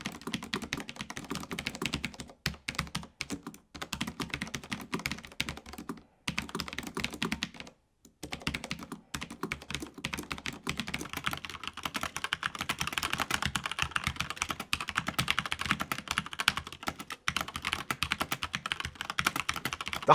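Steady, fast typing on a Corsair low-profile mechanical keyboard, crisp clicky keystrokes in continuous bursts with a couple of brief pauses, close and clear.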